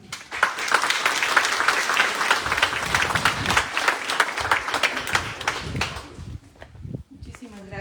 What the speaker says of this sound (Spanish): Vamos a darle la bienvenida con un caluroso aplauso.